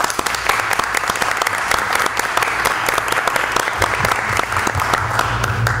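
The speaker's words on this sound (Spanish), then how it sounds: "voy a pedir a los miembros del Consejo que le podamos dar un fuerte aplauso" Members of a council clap together at the opening of an ordinary council session, a loud, dense burst of individual hand claps that stays steady throughout, close and lively, with no speech over it.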